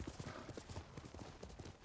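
Horse hooves clip-clop at a steady trotting rhythm in the video game Ghost of Tsushima, close and continuous under a dense game soundscape.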